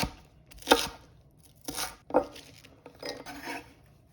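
Snow peas are cut into bite-sized pieces with a knife on a cutting board, giving a few separate crisp chops with short pauses between them. The sound is near and isolated, with no speech.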